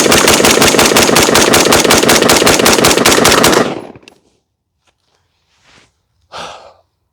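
An AR-15 rifle empties a full 28-round magazine in fast semi-automatic fire, loud and close. The shots stop abruptly, then there is near silence broken by a couple of soft breaths or sighs.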